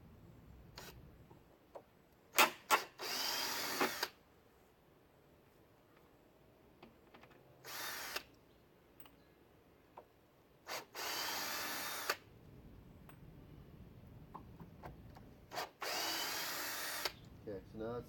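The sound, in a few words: power drill taking screws out of a board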